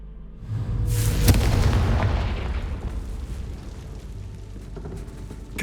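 A Confringo blasting spell detonates in Hogwarts Legacy, a loud close booming explosion whose deep rumble swells and then slowly decays over several seconds, with a fainter second burst near the end.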